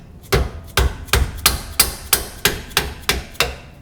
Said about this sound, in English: So just get a dead blow and loosen them up.